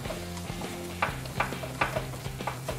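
Maida flour roasts in a pan while being stirred continuously over a low flame, making a soft sizzle under rhythmic spoon scrapes against the pan, with a faint low hum behind it.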